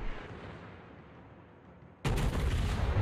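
Warship gunfire in a naval battle video game: a sudden loud broadside blast cuts in after a quieter rumble and rolls on heavily to the end.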